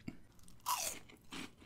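Close crunchy chewing of Cheetos Sweetos cinnamon sugar puffed snacks comes in two distinct bursts of crisp bites and crunching, loud and near, with no talking.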